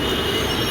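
A metro train at Azadpur station in Delhi rumbles along the rails close by, a steady dense roar with a high metallic wheel squeal over it, constant throughout with no voices.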